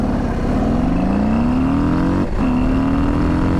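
A 2025 Harley-Davidson Low Rider ST launched hard, its engine loud and close, pitch climbing steadily through one gear, a brief dip at a shift, then rising again.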